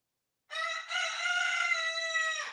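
A rooster crows once, loud and close, a single sustained call about two seconds long with a brief hitch near its start and a falling tail at the end, alone with no other sound.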